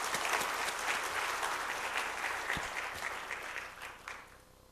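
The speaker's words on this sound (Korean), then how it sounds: "우리 하나님께 감사와 또 격려의 박수 다시 한번 부탁드립니다" Church congregation at a Wednesday worship service applauds, a dense wash of many hands clapping that holds steady and then gradually fades toward the end.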